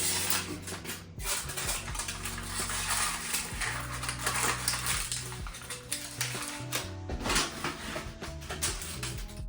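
Aluminium foil is torn into thin strips for covering a sweet potato pie, producing bursts of crinkling, crackling rustle in uneven spurts, close up and fairly soft, with no talking.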